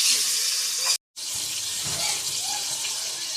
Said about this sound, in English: we're gonna fry these onions